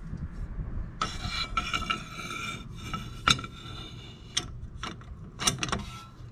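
Metal tie rod remover tool sliding over an adapter on the steering of a 2001 Toyota Camry, giving a run of light scraping and clinking metal contacts with a few sharper clicks near the end, close by and alone.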